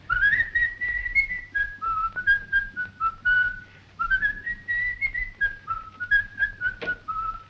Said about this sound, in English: Hear that whistling?